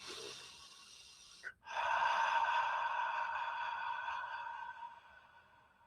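A person demonstrates slow breathing: a brief soft inhale, then a long steady exhale of airy breath lasting several seconds, close and alone with no talk.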